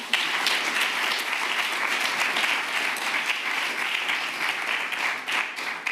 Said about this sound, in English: So again, a round of applause to Salzburg Global Seminar.